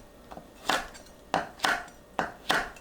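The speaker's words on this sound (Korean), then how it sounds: "청양고추, 홍고추 큼직하게 썰어주세요." A knife chops Cheongyang and red chili peppers on a board with a handful of crisp, close cuts in an uneven rhythm, each strike landing sharply before fading quickly.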